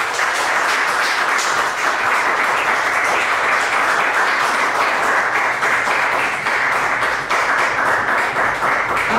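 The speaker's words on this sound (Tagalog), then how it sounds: "isang malakas sa palakpak para sa ating mentor" A crowd applauds steadily and loudly for about nine seconds for the mentor, Miss Kat Castro, at a morning network marketing seminar, the dense clapping holding an even level throughout without pause.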